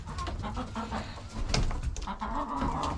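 Chickens on a homestead farm cluck and chatter in overlapping calls, several birds close by, with a steady farmyard bustle and no talking.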